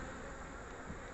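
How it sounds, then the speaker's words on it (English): Feral honey bees crowd around their hive in a dense, continuous buzz, a close, even drone of many wings with no pauses. "Rock solid feral bees."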